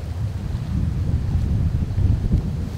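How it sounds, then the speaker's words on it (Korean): A strong headwind buffets the microphone at a rocky seaside fishing spot on Udo island, Jeju, with heavy swells. The roar is loud and steady, with low rumbling gusts and no voices. "너울이 높은 편이고 강한 맞바람이 불고 있어서 낚시하기는 쉽지 않은 상황이다"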